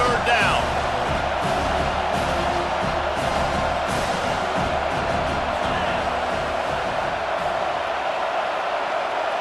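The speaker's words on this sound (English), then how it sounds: "Decibels rising as the crowd gets behind this defense on 3rd down." A college football stadium crowd roars on third down during a UCLA versus Penn State game, a sustained loud wall of cheering and whoops that holds steady over the whole stretch.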